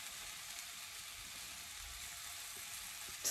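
Sausage frying in a pan, a steady, even sizzle of hot fat that holds at a constant level throughout, with a faint clatter at the very end.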